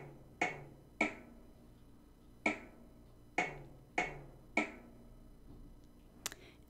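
Drum sound triggered by a Scratch program, six sharp, quiet hits in two groups of three, each with a short decay and the groups separated by about a second of near-silence.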